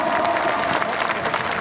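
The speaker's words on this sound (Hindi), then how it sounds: "आपकी तालियां थोड़ी सी बजे" An audience applauds at a mushaira poetry gathering in Jamia, steady dense clapping from a crowd with murmured voices mixed in throughout.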